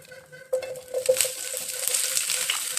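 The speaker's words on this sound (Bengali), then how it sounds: "তেল গরম হয়ে আসলে তার মধ্যে দিয়ে দিচ্ছি সামান্য জিরাকে একটু নেড়ে ছেড়ে বেজে নেওয়ার পরে দিয়ে দিচ্ছি পেঁয়াজ" Onion is dropped into hot mustard oil with cumin, breaking into a sudden loud sizzle after a quiet start that keeps crackling and hissing steadily at close range.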